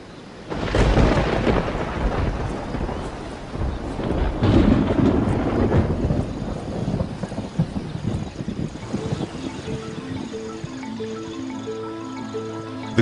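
A thunderstorm at the onset of summer rains in Kruger National Park, with loud rolling thunder and heavy rain building over the first seconds, then a long, steady wash of rain and wind that fades slightly toward the end.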